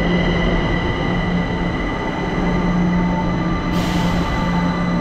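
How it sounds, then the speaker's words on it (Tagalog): A train pulls into a station in Taiwan with a loud, close, sustained rumble of rolling carriages and wheels, a steady mechanical roar that carries on throughout with no speech. "Nandito na mga tropa yung train."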